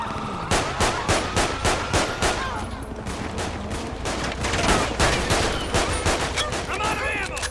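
Rapid, loud gunfire rattles in GTA 5 during a police shootout, a dense automatic burst with brief gaps and faint voices underneath.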